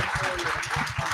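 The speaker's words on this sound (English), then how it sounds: "Let's give them a round of applause." Short burst of audience applause at the close of a public health panel discussion, clapping mixed with a little murmured voice.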